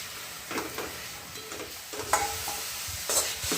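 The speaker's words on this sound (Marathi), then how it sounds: "याला आता शिजून देणार आहे मी तेलामध्ये परतून घेणार आहे" Garlicky fenugreek leaf vegetable sautéed in oil gives soft intermittent sizzling and stirring scrapes, a few louder bursts of frying standing out against a quiet kitchen background.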